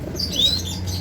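Pigeons give a brief tweeting call over a soft flutter of wings, close by, with a low steady hum underneath.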